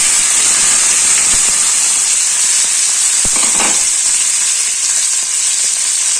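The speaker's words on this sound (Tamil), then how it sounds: "இது நல்லா வதங்கட்டும்" Ground onion, tomato, ginger and garlic paste with spices sautéing in a pan for a black chickpea curry, a steady loud hiss and sizzle with a brief stir partway through.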